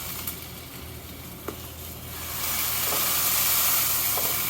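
Maitake mushroom searing in a hot pan, giving off a steady hiss of steam and sizzle that swells louder in the second half, with a few faint pops and spits.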